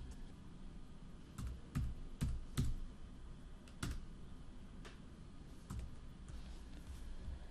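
Computer keyboard typing in irregular bursts of close, crisp key clicks, with a few louder strokes and short pauses in between, entering form details in an indoor setting with no voices.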